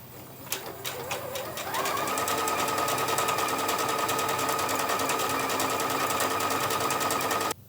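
Home sewing machine run by foot control, sewing decorative stitches on a tote bag: a few hesitant starts, then a steady, fast, evenly pulsing motor whir and needle chatter that runs continuously for several seconds before stopping.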